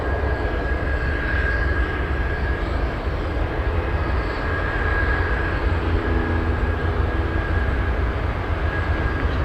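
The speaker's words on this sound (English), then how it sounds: "We have a C-130 Hercules, the U.S. Coast Guard, taking off from runway 33." A U.S. Coast Guard C-130 Hercules turboprop taking off from runway 33 at Anchorage airport, a loud continuous engine roar with a steady whining tone, sustained throughout without talk.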